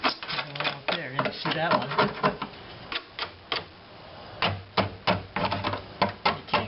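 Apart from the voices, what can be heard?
scraping rust off a car part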